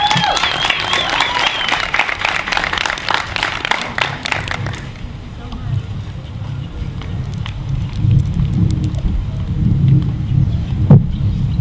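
A crowd at an outdoor march against Monsanto in Brunswick, Georgia applauds and cheers loudly after a speech, the clapping dense for a few seconds and then thinning into scattered claps and crowd murmur.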